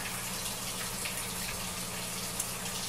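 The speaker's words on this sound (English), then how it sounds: "a Fluval 404 on the right end of the tank that has half of its output splashing straight across the tank to the front wall" Water from a Fluval 404 filter output splashing across an aquarium, a constant soft gushing wash with a faint low hum beneath, quiet and steady with no voices.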